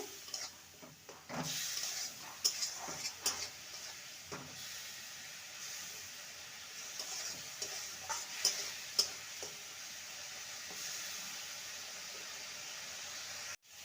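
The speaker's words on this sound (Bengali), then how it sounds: "এবার দিয়ে দেবো সামান্য জল যাতে করে মশলাটা ভরে না যায় ভালো করে কষিয়ে নেব" Spice masala for a cauliflower and egg curry sautéing with a splash of water in a pan, a steady hiss of steam punctuated by scattered ticking clicks of stirring.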